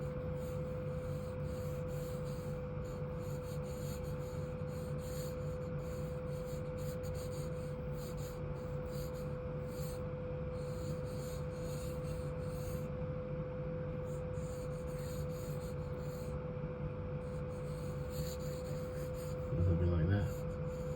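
Pencil sketching on paper, with soft continuous scratchy strokes and rubbing heard up close and quiet, and a brief louder scrape near the end.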